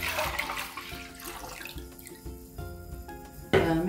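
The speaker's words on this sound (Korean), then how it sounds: "쌀뜨물 1리터를 부어주세요." Rice-washing water poured from a container into a pot for a Korean seafood tofu cheonggukjang broth, a steady close splashing pour that ends in a brief louder gush.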